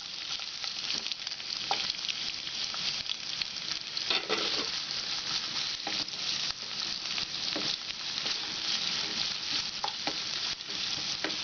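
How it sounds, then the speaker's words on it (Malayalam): Chopped onions fry in melted butter for Kerala-style vegetable fried rice, giving a steady, even sizzle with occasional stirring scrapes and small pops, close and continuous, with no talking. "നന്നായിട്ട് ഗോൾഡൻ ബ്രൗൺ ആയിട്ട് വരുന്ന വരെ നമുക്ക് ഫ്രൈ ചെയ്യാം."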